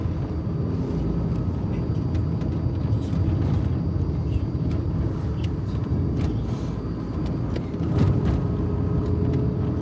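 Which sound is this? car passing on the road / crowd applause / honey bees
car passing on the road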